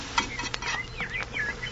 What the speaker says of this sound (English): How long do I have to listen to them sizzling there on the griddle?